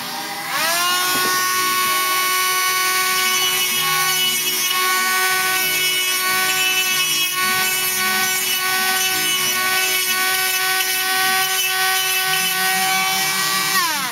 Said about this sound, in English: So you need to drill a little bit over. You need to drill